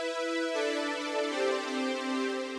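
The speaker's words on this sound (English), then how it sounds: "We've got the vintage strings," A vintage strings keyboard patch of the 1980s kind, sustaining a held chord that shifts to new voicings twice, bright and full, alone with no talk.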